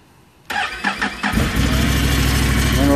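A Can-Am Renegade 570 ATV engine starts close up: a brief starter whir with a couple of cranking pulses, then the engine catches and settles into a loud, steady idle.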